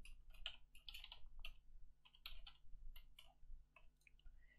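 Rapid typing on a computer keyboard, close and clear, with irregular bursts of key clicks and short pauses over a low background hum.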